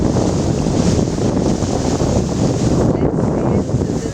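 A sailboat cuts through wind and waves toward the sunset, steady rushing wind buffeting the microphone over a continuous wash of water, loud and close with no break.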